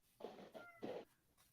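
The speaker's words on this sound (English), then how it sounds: "Is that my cat?" A pet cat outside a closed door gives a few faint, short meows, roughly three soft calls in quick succession, distant and quiet.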